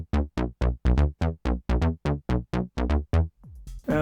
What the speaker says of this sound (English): now I get the unison sound for my bass line